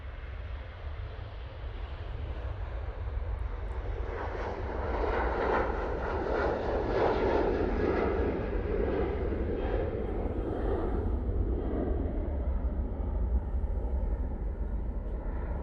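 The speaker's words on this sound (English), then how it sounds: "Next out will be the Ryanair going off to Alicante." Ryanair jet airliner taking off for Alicante, a steady broad engine roar building and holding loud for the whole stretch with no voices over it.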